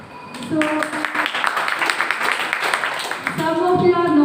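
Audience applause at a seminar: a dense burst of many hands clapping for about three seconds, loud and close, with a voice speaking before it and again as it fades.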